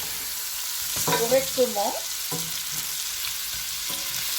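Palak chicken, drumsticks with spinach, stirred in a pan over low heat: a soft, steady sizzle with occasional light scrapes, while a voice speaks briefly over it.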